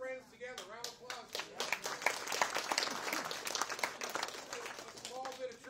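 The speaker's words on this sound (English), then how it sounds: "Round of applause." Applause from the crowd at an outdoor Veterans Day ceremony, scattered claps building into a steady round, fairly faint and distant, with voices talking over and around the clapping.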